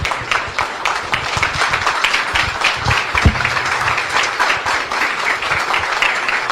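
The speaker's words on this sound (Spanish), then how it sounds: "que se sienta bien fuerte este aplauso" Sustained audience applause closing a lecture on ethics, dense steady clapping filling the room for the whole stretch at fairly loud level, with no talk over it.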